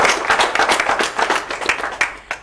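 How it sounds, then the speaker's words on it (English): An audience claps at a school quiz or competition event, a lively burst of many hands with sharp individual claps standing out, fairly close and with no talk over it. "Let's clap for ourselves once again."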